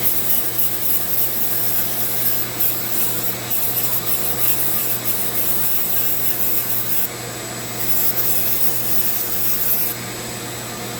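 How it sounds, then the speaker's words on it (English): Steady, continuous sanding on carved wood with a Dremel, a dense abrasive rasping that carries on without pause, close and fairly loud. "Sand it down a little bit"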